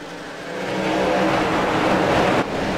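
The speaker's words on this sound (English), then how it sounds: "Crank up the engine sounds and enjoy the racing here at Richmond." Racing truck engines roar during a Truck Series race at Richmond, a loud, sustained drone that swells as the trucks come past at full throttle, then dips briefly near the end.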